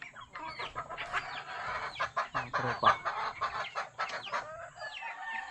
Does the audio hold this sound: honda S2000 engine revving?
no